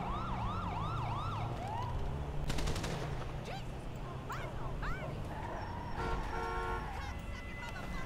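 A police car siren wails in GTA 5 roleplay. Repeated rising and falling whoops open the clip over a constant engine rumble, followed by sharp bursts like gunfire and more scattered siren sweeps.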